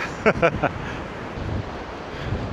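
Steady wind on a pebble beach by a rough sea buffets the microphone with a broad rushing roar, with a few brief clicks near the start.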